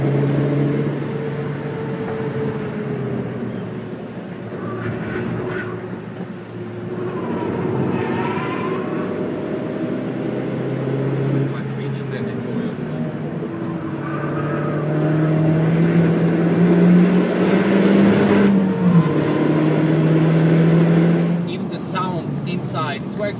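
A DS3 R drives a lap of the Nürburgring Nordschleife, its engine droning and rising in pitch as it accelerates from inside the cabin, with people talking over the motor throughout.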